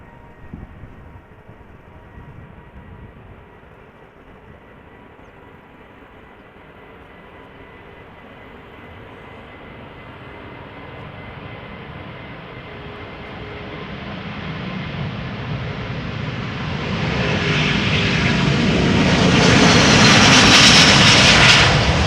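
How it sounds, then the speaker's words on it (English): A three-year-old Airbus A330neo at Amsterdam Schiphol spools its jet engines up for takeoff, a roar that starts faint and swells steadily louder into a broad rushing blast toward the end, with no talk. "Spooling up. A330 Neo, 3 years old, first flight April 2020."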